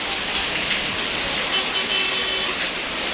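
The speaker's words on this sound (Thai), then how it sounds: "ฝนตกเบิดแบบนี้" Heavy rain pours down steadily and loudly, a dense continuous hiss of drops striking surfaces close by, with no pauses across the whole stretch.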